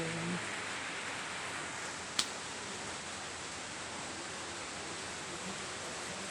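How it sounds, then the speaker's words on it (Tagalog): Steady rain falling continuously, a broad even hiss with one brief sharp tick near the middle, no voices. "umuulan dito ngayon sa amin kagabi pa umuulan"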